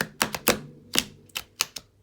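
Crisp, rapid riffles of a slightly stiff new oracle card deck: several short papery bursts in quick succession, close by, with no talking.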